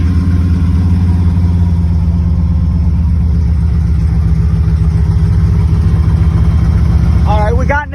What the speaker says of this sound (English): we got an exhaust leak